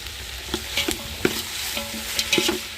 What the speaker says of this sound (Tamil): இது கூட கத்திரிக்காய் போட்டுங்களா எண்ணெயில் வதக்கணும்